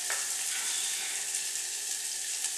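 Garlic and onion fry in olive oil with a steady, close hiss and crackle of sizzling that runs unbroken and fairly loud throughout.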